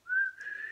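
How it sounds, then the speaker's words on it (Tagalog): A single sharp, high-pitched whistle, loud and close, held briefly at a steady pitch. "Sumipol ng malakas."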